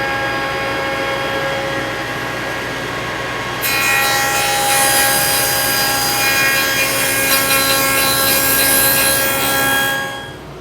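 A groove in a cedar potting bench leg is widened with a power tool: a steady whining, rasping drone that grows louder and harsher partway through, then fades at the end, with no talk.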